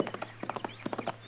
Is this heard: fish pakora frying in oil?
no